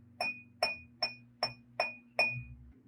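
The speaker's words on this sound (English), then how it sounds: "you use the metal, hit very gently on the glass." The metal end of a pencil taps gently on a drinking glass six times at an even pace, each strike a clear, bright ringing ping that quickly fades, heard close and alone over a faint low hum.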